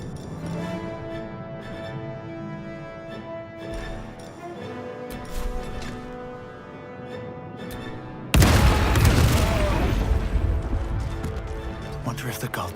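Cannon fire booms out in Baldur's Gate 3, a loud, dense burst of blasts and crashing that opens suddenly partway through and keeps rumbling to the end over game music.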